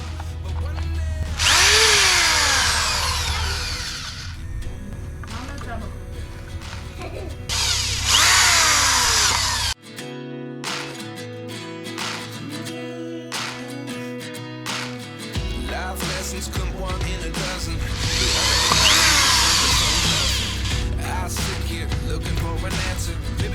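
Loud whining bursts from a homemade wall chaser cutting a groove into a wall, alternating with quieter stretches of clattering and tapping, close by.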